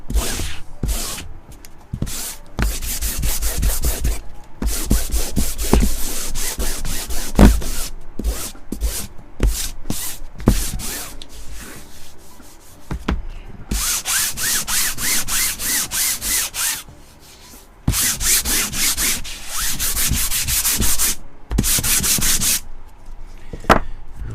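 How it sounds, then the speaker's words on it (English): Sandpaper scraping across a gessoed canvas in repeated quick back-and-forth strokes, loud and close, broken by short pauses between bursts. "If you're using a really gritty sandpaper like a 100, just be careful you're not pressing too hard."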